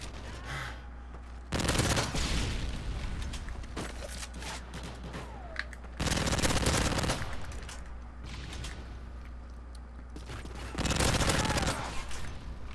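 Bursts of PP90 submachine gunfire in Modern Warfare 3 come in three loud volleys, each a few seconds long, separated by quieter stretches of game ambience.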